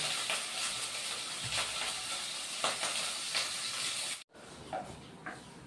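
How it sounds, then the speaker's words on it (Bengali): Paneer frying in a pan, a steady hiss and sizzle with occasional stirring scrapes, briefly cut off near the end before the softer sizzling resumes. "পনিরটা দুবারে ভেজে নিতে হবে"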